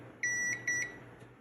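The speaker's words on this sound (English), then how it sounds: "So this should beep if there's a connection." Two pairs of short, high electronic beeps from a continuity tester checking an N64 Rumble Pak circuit board, in quick succession, clear and close against a faint background hum.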